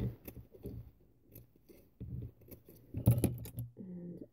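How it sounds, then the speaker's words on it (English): Small scissors give quiet, crisp snips into paper for handmade paper flowers, a few short cuts in an uneven rhythm, close up and otherwise near-silent. "And then just give little snips on these ones."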